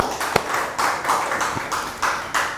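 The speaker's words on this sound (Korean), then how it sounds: "하나님께 영광의 박수를." A church congregation at a Wednesday service claps in a brief burst of applause, a dense patter of hands with a few sharper slaps standing out.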